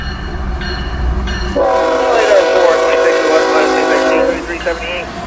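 Freight train job Q030 pulls out of Moncrief Yard into Duval Ramp, its horn sounding a loud sustained blast over rumbling rail noise, preceded by a shorter tone and steady low engine drone.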